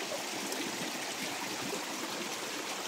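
A small stream flows with a steady, broadband rush of water, soft and continuous, with faint trickling texture and nothing else prominent.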